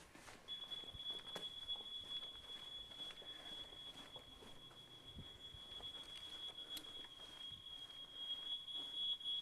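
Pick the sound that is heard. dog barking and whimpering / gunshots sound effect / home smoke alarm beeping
home smoke alarm beeping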